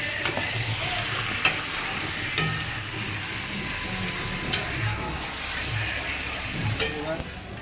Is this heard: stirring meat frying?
yes